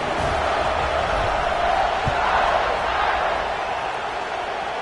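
A football stadium crowd roars steadily at kickoff in a Notre Dame versus USC game, a broad, loud, continuous wash of cheering with one brief thud partway through.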